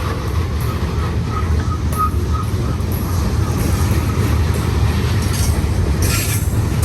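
A San Joaquin Valley Railroad freight train with locomotives rolls past close by, a loud continuous roar and rumble of wheels on rail with faint squeals, steady throughout with no talking.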